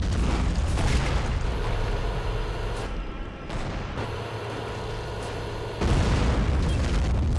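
Missile strike explosion in an Iraq War 2003 tank-battle mod of a war video game: a dense, sustained boom and rumble that swells loud at the start, dips through the middle and surges again near the end, with no talk.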